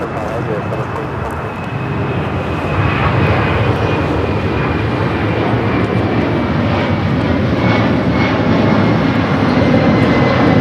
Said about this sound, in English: Delta Heavy now rolling down that 25 at right.